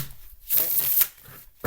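A deck of cards is shuffled once in a quick riffle burst of about half a second, fairly close and clear, with quiet gaps before and after and no talking over it.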